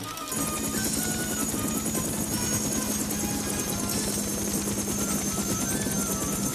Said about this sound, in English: The choppers are circling